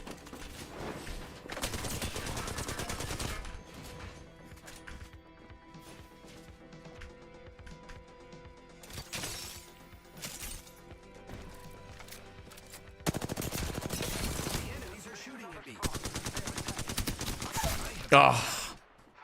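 Automatic gunfire in an online shooter match, long rattling bursts of rapid shots starting and stopping, loud and close, with gamers talking and reacting over parts of it.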